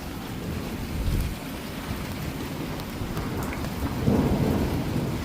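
A heavy thunderstorm in a backyard during a tornado warning, with continuous hissing downpour, deep rolling thunder swelling near the start and again toward the end, and no voices.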